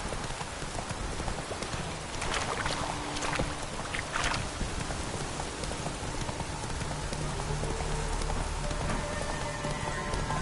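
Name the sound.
heavy rain downpour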